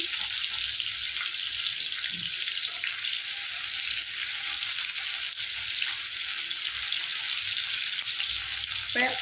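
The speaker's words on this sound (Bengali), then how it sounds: "অল্প ভেজে নিচ্ছি" Pieces of pointed gourd fry in oil over medium heat, giving a loud, continuous bright sizzle with occasional soft knocks from the pan, heard alone throughout.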